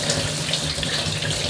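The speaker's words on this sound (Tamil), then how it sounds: "முருங்கைக்கீரையை இந்த மாதிரி கழுவிக்கலாம்." Drumstick (moringa) leaves are rinsed under a running kitchen tap, giving a steady, close splashing rush of water.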